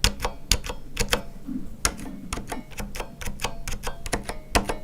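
Repeated presses of the 4 key on a Corsair Strafe mechanical keyboard with Cherry switches: a steady run of sharp, close clicky clacks, roughly two or three per second, each with a brief rattle.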